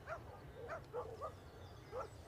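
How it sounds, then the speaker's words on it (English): Several dogs bark in a lively chorus, faint and distant outdoors, with about six quick yappy barks spread over a couple of seconds above a low background rumble. "Blinking heck, that's a barkathon."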